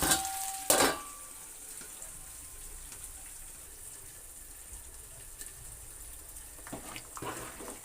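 Onions fry in tempering oil for a sambar, a quiet steady sizzle with a sharp clatter of stirring near the start and faint scraping again near the end.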